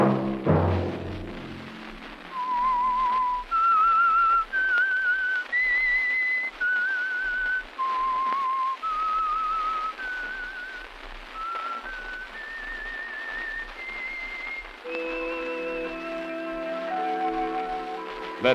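The Whistler radio program's signature tune is a lone, clear, close whistled melody of rising and falling notes, which gives way near the end to a sustained orchestral chord.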